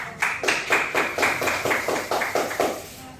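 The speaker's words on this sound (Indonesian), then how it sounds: "Tepuk tangan dulu buat kelompok 1." A classroom applauds a student group after its presentation with a short, rhythmic burst of clapping, about ten fairly even claps close by, with almost no talk over them.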